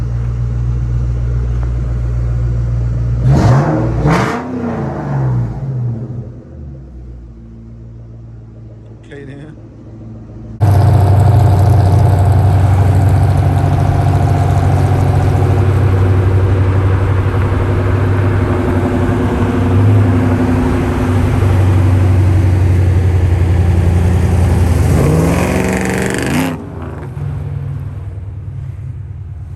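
A 2004 Mustang Mach 1 V8 with an off-road H-pipe and SLP exhaust starts and idles, a loud deep rumble holding steady for about fifteen seconds, with brief talk before it.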